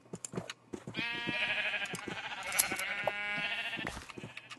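Sheep bleating in a video game, a wavering, nasal bleat stretched over several seconds, layered with short clicks and soft game sounds.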